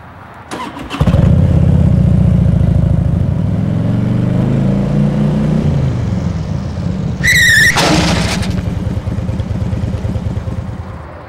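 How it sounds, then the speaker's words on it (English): A motorcycle's front brake is deliberately locked up, followed by a sliding skid and crash: a loud engine note runs throughout, then a sharp high-pitched squeal around the middle before the engine keeps running. "I'm going to crash on purpose just to show you what will happen if you lock up the front brake."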